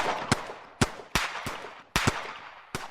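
Several sharp gunshots ring out at irregular intervals, some in quick pairs, each followed by a brief echoing decay.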